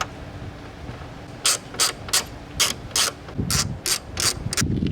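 A ratchet tightening bolts on a BMW E60 5 Series headlight, heard as close, crisp bursts of rapid clicking, about ten in a row with short pauses between strokes.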